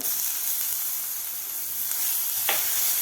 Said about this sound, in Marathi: मोहरी आपली व्यवस्थित फुललेली आहे आता यामध्ये घालायचं आपल्याला हे बनवून घेतलेलं वाटण हिरव्या मिरचीचं